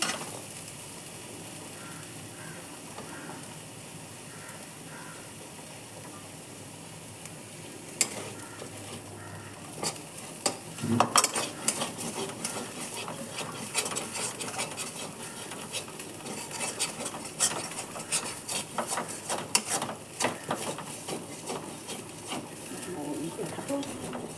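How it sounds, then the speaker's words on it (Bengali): Stuck fish paste being scraped off a wok. A quiet sizzle at first, then repeated close scrapes and knocks of a spatula against the metal grow busier and louder, with a voice talking at times. "দেখুন কাচিয়ে কাচিয়ে তুলে নিলাম সম্পূর্ণটা যেটা লেগে গেছিল"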